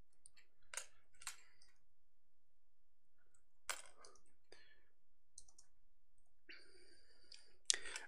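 Keys on a keyboard are typed in short, scattered bursts of faint clicking, some single taps and a quicker run near the end, heard close but quiet against near silence.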